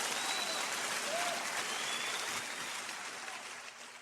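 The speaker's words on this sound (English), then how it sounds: "Nick Offerman, round of applause." Applause from a crowd fills the stretch as a dense, steady patter of clapping that fades slightly toward the end, with no voices over it.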